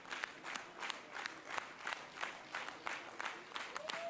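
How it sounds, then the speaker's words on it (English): Mission control staff applaud the first Ariane 6 heavy-lift rocket launch, rhythmic waves of clapping in a room with some cheering and voices, moderately distant and fairly quiet. "When they applaud like this,"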